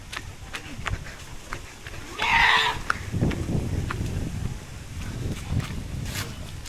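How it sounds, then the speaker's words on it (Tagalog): A long-haired goat gives a single loud, nasal bleat close by, lasting about half a second, amid outdoor rustling and footsteps, with people talking faintly around it. "Ah, kambing."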